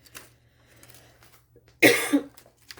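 One sharp, close cough bursts out after a quiet stretch, followed by faint background murmurs.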